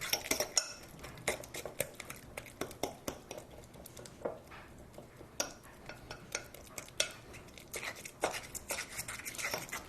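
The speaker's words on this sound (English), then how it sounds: "Just going to stir this together." A utensil mashes and stirs two bananas with unsweetened no-sugar peanut butter in a bowl, quiet repeated scraping clinks against the dish at an uneven pace, close and without talk.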